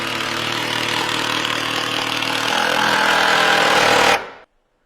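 A power tool tightens the mounting bolts of a MinnKota Ultrex trolling motor on a Lund 219 Pro V GL boat, a loud continuous rattling whir for about four seconds that rises slightly before cutting off abruptly.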